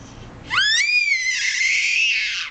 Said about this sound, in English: she loves to scream